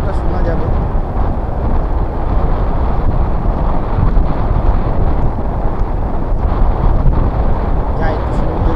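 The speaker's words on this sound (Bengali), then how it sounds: "অবশ্য যা হাওয়া, জানি না আমার কতটা শোনা যাবে।" Strong sea wind on Mandarmani beach buffets the microphone with a steady, loud, low roar that fills the whole stretch without letup.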